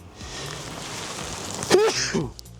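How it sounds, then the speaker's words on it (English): A single sharp sneeze close to the mic, bursting out over a steady rush of wind noise. "I gotta sneeze."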